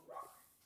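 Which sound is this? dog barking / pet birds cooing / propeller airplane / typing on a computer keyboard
dog barking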